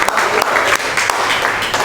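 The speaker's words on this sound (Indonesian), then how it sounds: "tepuk tangan buat teman-temannya" A classroom audience of teacher trainees claps for their classmates, loud, close, slightly uneven hand claps with a few sharper individual slaps standing out.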